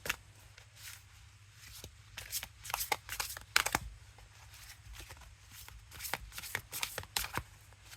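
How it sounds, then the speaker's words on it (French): An oracle card deck is shuffled by hand, a run of soft, close riffling and flicking sounds in quick irregular bursts over quiet background. "on va tirer une carte au hasard pour voir ce que ça donne"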